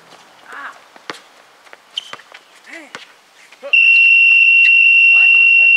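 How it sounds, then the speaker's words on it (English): Squeaking sneakers and a bouncing ball on a court, then a loud, steady electronic halftime buzzer blares for the last two seconds. "The buzzer. That's halftime."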